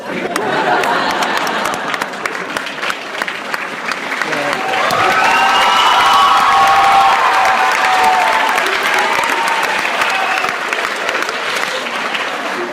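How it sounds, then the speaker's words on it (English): An audience at the School of the Art Institute of Chicago claps and cheers for George Lucas, with loud, sustained applause that swells midway, scattered whoops and crowd chatter mixed in, close and full. "You guys applaud Mr. Lucas also."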